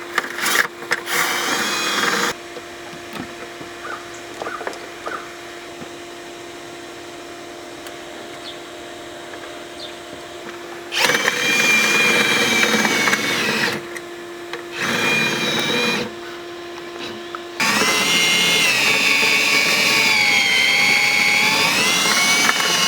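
A drill-driven rotary brush with a large head scrubbing through a clogged residential dryer vent toward a vacuum, heard as loud, sustained whirring bursts that start and stop, with a quieter steady hum between them.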